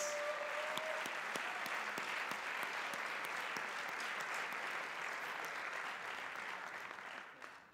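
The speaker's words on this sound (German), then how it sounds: "Einmal Applaus." An audience at a youth amateur evening applauds performers coming to the stage, with steady, dense clapping and a few sharp individual claps, slowly fading toward the end.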